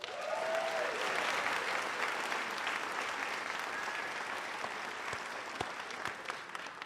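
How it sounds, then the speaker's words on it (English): A theater audience in the Robinson Theater at Whittier College's Ruth B. Shannon Center claps in a steady, full round of applause, moderately distant, with a few sharper claps standing out as it thins toward the end. "I'm glad you're practicing your applause"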